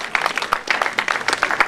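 Brief burst of crowd applause welcoming the Ernstbrunn music band at the Ernstbrunn railway station during the 110th anniversary celebration of the Ernstbrunn–Korneuburg local railway, with dense, even clapping throughout.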